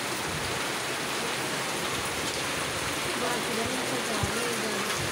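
Steady rain falling on a rooftop, a dense even patter and rush that fills the whole stretch at a constant level, with a voice speaking faintly underneath toward the end.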